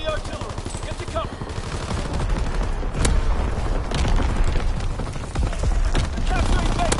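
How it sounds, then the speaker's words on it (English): Incoming enemy artillery in a war video game, heavy shots and sharp blasts strike amid continuous battle noise and rapid gunfire, loud and close, with a hint of hooves beneath. "Incoming enemy artillery. Get to cover."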